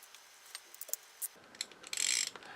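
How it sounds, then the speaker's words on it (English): A 10mm deep socket tightens a brass piece on a Weihrauch HW100 air rifle, giving quiet, close ratcheting clicks in short bursts, then a brief louder metallic rasp. "use a 10mm deep socket"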